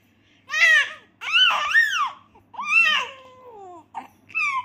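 A four-month-old baby cries at home in a series of loud, close wailing bursts broken by short pauses, with a final shorter whimpering cry.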